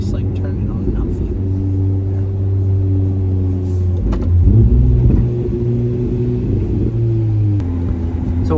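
A Ferrari 296 driving on the Monaco F1 street circuit, a steady engine drone with shifting pitch and a brief surge midway, heard from inside the cabin under people talking.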